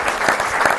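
A crowd applauds steadily at an event, with dense and fairly loud clapping.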